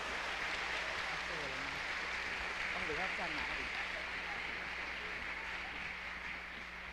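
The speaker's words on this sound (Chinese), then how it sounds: "给我们的小朋友拍拍手" An audience claps for children who have just sung a song at a church service, a steady wash of applause under a mic'd voice talking briefly.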